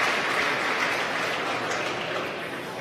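Distant crowd cheering and applauding after a SpaceX Dragon capsule deploys on the CRS-12 launch, a broad, steady roar of applause that fades slightly toward the end.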